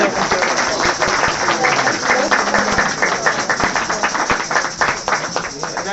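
A crowd gives sustained applause for a singer at a live event, a dense, steady wash of clapping that stays loud from start to finish, with cheering voices mixed in.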